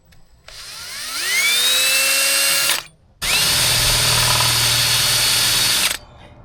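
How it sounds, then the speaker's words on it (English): A drill spins a larger bit in reverse to clear gel coat from a hole in a Bay Craft 210 boat hull, two loud sustained whirring bursts with rising pitch at spin-up, separated by a brief pause. "I took a larger drill bit and spun it backwards quickly just to clear the gel coat from the hole"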